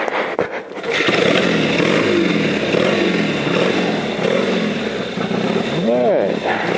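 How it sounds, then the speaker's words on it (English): A kick-started motorcycle engine runs loud and close, holding a rough, steady idle and then revving up briefly near the end, with a voice talking over it. "This bike runs good, man."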